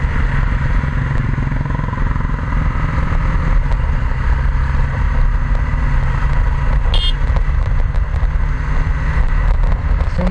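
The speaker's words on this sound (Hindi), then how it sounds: "वो BMW की जब बाइक चला रहे हैं।" BMW motorcycle ridden along an open road, a steady loud engine roar mixed with constant wind rush for the whole stretch, close to the rider, with no talk.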